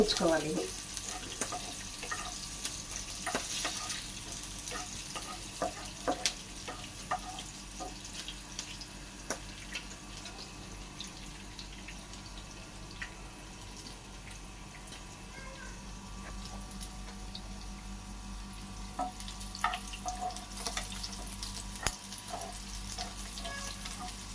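Mint rice ingredients fry in a pan, giving a steady low sizzle with scattered faint clicks of stirring that runs throughout, fairly quiet and close.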